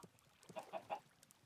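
Minecraft chickens clucking in a few short, soft blips at a steady pace, heard alone at low volume.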